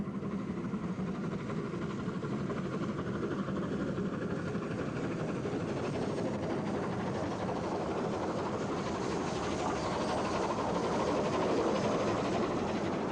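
Southern Region steam express trains run on the West of England line at Grateley, near Andover on Salisbury Plain, making a steady, loud rumbling roar with a rhythmic clatter that swells slightly toward the end, with no voices.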